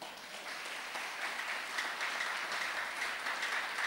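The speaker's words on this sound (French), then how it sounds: "On acclame le Seigneur." A charismatic theology class audience applauding the Lord, a sustained wash of hand-clapping that swells slightly and continues steadily, fairly loud with no talking over it.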